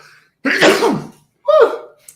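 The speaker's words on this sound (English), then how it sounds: "had to sneeze" A single sharp sneeze in two parts, a short intake and then a forceful burst, is heard close up during a news roundup, with no talk over it.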